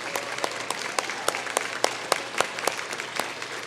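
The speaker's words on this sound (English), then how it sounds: "We want to give you a big round of applause as well." Steady applause from an audience at an awards celebration honoring Via Mobility staff, a continuous wash of clapping with sharper individual claps popping out, moderately distant and without speech.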